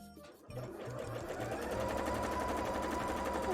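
Sewing machine stitching a Garbodor-themed bra, starting after a brief pause and then running as a steady, continuous rapid whir close by, growing slightly louder.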